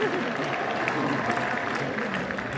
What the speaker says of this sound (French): Et tu t'applaudis en plus